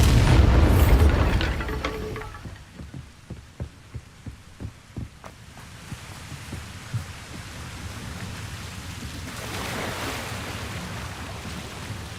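A Bombarda explosion spell going off in Hogwarts Legacy: a loud, deep booming blast at the start, followed by a short train of sharp thuds and a low rumbling wash of debris that trails away.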